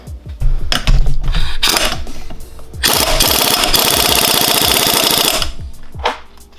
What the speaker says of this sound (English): I'm just gonna zap this bad boy on there with a impact and hope for the best.